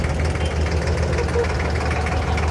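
A small tourist boat's engine idles in Venice, giving a close, steady low rumbling drone with a faint knocking throb that holds unchanged for the whole stretch.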